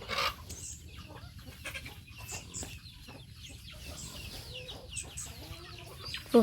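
Chickens coming down to drink water on a Thai farm, with soft scattered clucks and pecking noises at a low level against quiet outdoor ambience.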